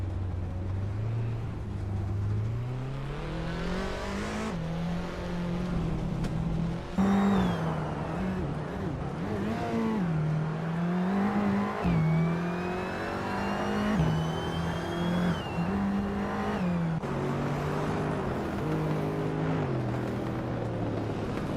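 A Mercedes-Benz A45 AMG in a racing video game revs hard, its engine note climbing and dropping through repeated gear changes, loud and close, with other cars passing in the background.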